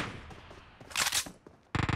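Rapid automatic gunfire from a BGMI mobile battle royale match, a loud burst near the middle and another sharp burst at the end.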